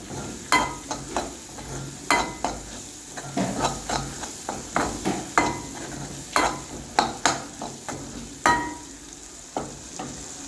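Masala browns in a pan for chicken chukka, a soft frying sizzle broken by frequent sharp scrapes and knocks of a spoon against the pan, each stroke loud and close in an uneven rhythm.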